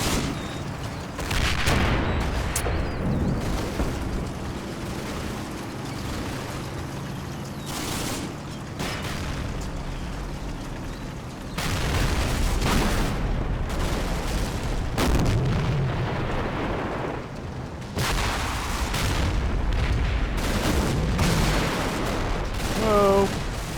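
Gunfire and heavy booms from a World War II tank battle in Combat Mission Red Thunder, with loud broadband blasts recurring across the clip, dense rumbling bursts at intervals over a continuous battle backdrop.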